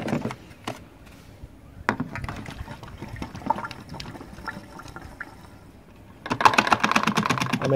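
Diesel pours and splashes into a car fuel tank with irregular clicks and knocks, then the flow grows louder and steadier near the end.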